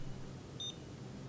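A single short electronic beep, high-pitched and clean, over a faint low hum in an otherwise quiet room.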